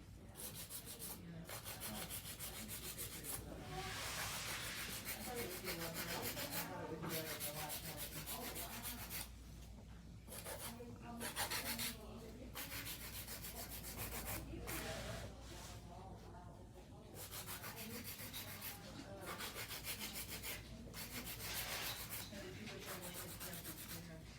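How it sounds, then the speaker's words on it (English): Electric nail drill working around the cuticle area of acrylic nails, a steady continuous grinding-rub texture running throughout with brief pauses, close and fairly quiet. "they use the drill to go around your cuticle area"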